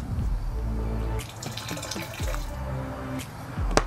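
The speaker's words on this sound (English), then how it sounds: "opening the drain valve and draining all the water out" Water drains out of an Ice Barrel cold plunge tub through its opened drain valve, a continuous gurgling, splashing flow with bubbling pulses and occasional drips, close by and with no talking.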